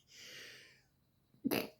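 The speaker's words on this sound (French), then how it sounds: "Je vais éternuer." A sharp, loud sneeze bursts out near the end, preceded by a drawn-out hissing intake of breath.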